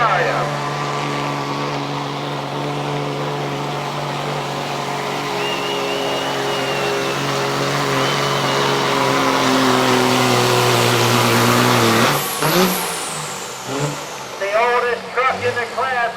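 A heavy diesel truck engine at full throttle at a diesel truck shootout drones loudly and steadily, its pitch climbing slowly under strain, then cuts off into muffled voices and cheering at the end.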